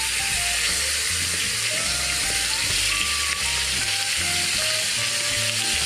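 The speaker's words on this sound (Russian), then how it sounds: "Теперь мы обжариваем нашего кролика с двух сторон." Rabbit pieces fry in hot bacon fat for a Christmas mustard rabbit dish, giving a loud, steady sizzle with crackling pops and some stirring throughout, and no talking.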